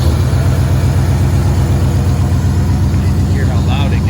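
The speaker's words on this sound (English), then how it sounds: "let's go ahead and start the car so you can hear." A 1952 Ford Customline with a flathead V8 idles loudly up close, a deep, steady, rumbling throb with an even pulsing beat, with brief faint chirps over it near the end.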